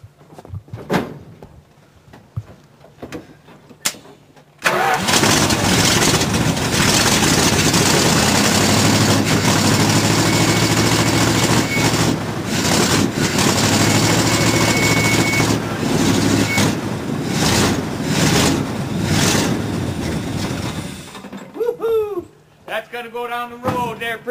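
An engine runs a little above idle, a loud continuous rumble that starts abruptly after a few seconds of clatter and keeps going for most of the span before cutting off, with a voice briefly heard near the end.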